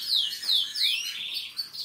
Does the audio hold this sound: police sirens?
no